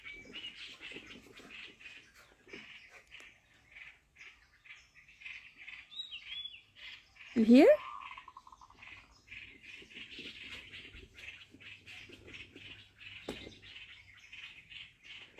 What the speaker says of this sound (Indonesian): Burung-burung itu pada ribut kalau pagi.